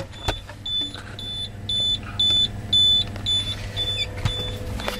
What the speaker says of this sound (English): that alarm kind of goes off each day at the top of the hour and lasts for about like 20 or 30 seconds